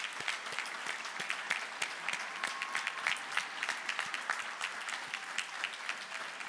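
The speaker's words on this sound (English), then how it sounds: "Please accept our applause." Crowd at a university commencement applauds the graduates, a steady, dense patter of many hands clapping that continues at an even level throughout.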